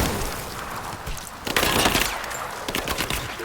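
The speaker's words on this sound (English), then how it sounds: "Give me suppressing fire," Suppressing machine-gun fire rattles through a Rise of the Tomb Raider firefight in dense, rapid bursts, loud and close, swelling midway and then breaking into shorter volleys.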